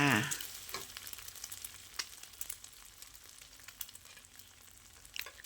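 Eggs being scrambled in a pan for Thai egg fried rice crackle with a loud opening burst, then settle into a quieter sizzle with scattered ticks and scrapes from the spatula.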